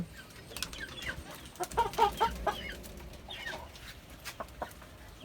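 Chickens on a rooftop cluck in short, uneven bursts, with a cluster of louder clucks near the middle, nearby over faint background noise and no speech.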